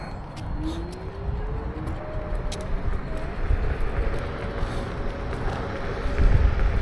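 Kaabo Warrior X Plus electric scooter on a single motor in second gear accelerating over a flat surface, its motor whine rising in pitch over rushing wind and road rumble, which grow louder toward the end.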